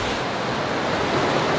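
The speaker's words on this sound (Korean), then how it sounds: "높고 깊은 산맥에서 발원한 이 세찬 물줄기의 높이는 어림잡아도 10m는 되어 보입니다." Waterfall about ten metres high in a mountain river in Iran, heard as a steady, dense roar of rushing water close by, with no voices.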